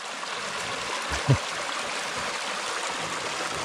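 A forest river flows quietly in the distance as a soft, steady stream murmur with faint gurgles, and a single brief knock or bump stands out in the middle.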